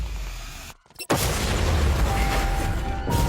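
A loud, close explosion blast during a police chase, a roaring broadband boom that cuts in after a brief dip and holds as a sustained rumbling wash to the end.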